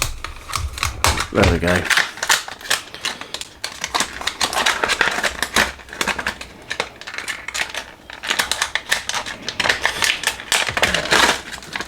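Instruction sheet packaging for a Warhammer 40,000 Shadowseer kit being cut open, a dense run of close, crisp crinkling and snipping that continues throughout, with someone speaking briefly partway through.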